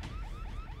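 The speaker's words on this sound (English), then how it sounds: "And now the alarms are going off." An alarm sounds in the Roblox Royale High game's cell phone store, a repeating, rising electronic wail over a constant low background, with no speech.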